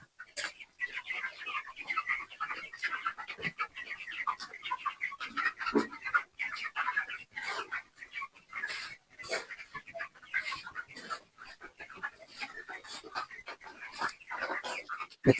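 A crowd of 22-day-old broiler chickens in a poultry farm shed gives off soft, scattered chirps and peeps, busy and irregular, close by, with a voice talking at times over the flock.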